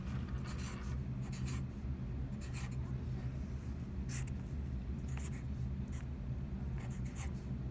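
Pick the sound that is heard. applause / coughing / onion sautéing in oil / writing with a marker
writing with a marker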